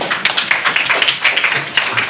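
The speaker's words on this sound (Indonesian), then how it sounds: "Oke, tepuk tangan." An audience at an Islamic talk claps in a brisk, close round of applause, steady overlapping hand claps for about two seconds.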